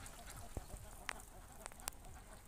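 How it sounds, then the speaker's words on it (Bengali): A large flock of egg-laying ducks at a hatchery pond in the morning, with a few faint, brief quacks and honks scattered over quiet background noise. "আর এই পাশেই দেখতে পাচ্ছেন আমাদের হাঁসগুলো, রাকিব হাঁসের যে প্যারেন্টস রয়েছে"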